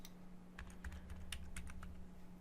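A password being entered on a computer keyboard during a PostgreSQL install, a short, quiet run of close key clicks over a low steady hum.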